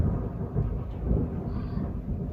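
Thunder rolling during a heavy rainstorm, a low continuous rumble under steady rain noise, close and fairly loud throughout with no talking.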